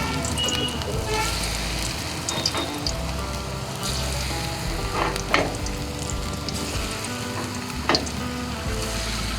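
Mushroom pakoras fry in hot oil over a low flame, giving a continuous close sizzle and crackle with occasional pops, while a voice talks quietly underneath.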